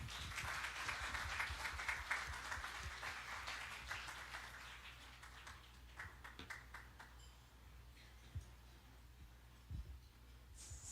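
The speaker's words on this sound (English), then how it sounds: "Join me to give a warm applause as we welcome Dr. Leonor McTullis Briones" Applause at an international skills symposium, a broad hall of clapping greeting a guest speaker, steady and fairly faint, thinning out toward the end with a few sharper claps.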